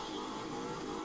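A drag car engine in The Crew 2 roars loud and steady, a dense continuous revving drone with no pauses and no voices.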